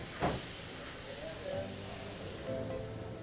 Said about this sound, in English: we're gonna go ahead and sear it